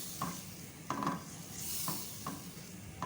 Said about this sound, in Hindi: मिक्स करें अच्छी तरह से और मसालों के साथ इसको पकने दें अच्छी तरह से।